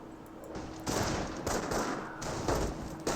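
Dense battlefield gunfire in Company of Heroes, a World War II strategy game, as a rifleman squad comes under fire: overlapping rifle and machine-gun bursts crackle steadily, swelling in loud waves with no speech.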